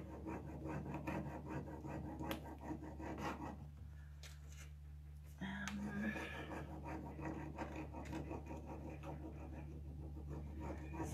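A rub-on transfer is pressed and burnished onto a wooden dresser, giving a steady scratchy rubbing that stops briefly midway and then resumes, close and quiet.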